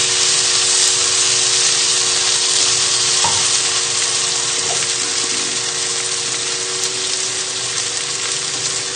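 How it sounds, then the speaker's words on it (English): Sausages and pesto sizzle and fry in a pan on a medium burner at full heat, a steady close crackling hiss that runs the whole time with a few faint stirring knocks. "So just moving the sausages and pesto around in the pan"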